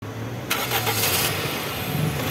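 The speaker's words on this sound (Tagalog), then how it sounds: "start mo na itong makina" A Toyota car engine cranks briefly and catches after a valve cover gasket oil leak check, then settles into a steady, loud idle close by.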